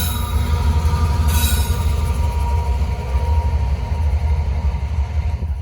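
A Norfolk Southern freight train of nearly 100 cars rumbles steadily past at close range in Gaffney, South Carolina, with wheels grinding and a thin metallic squeal rising early on; no voices.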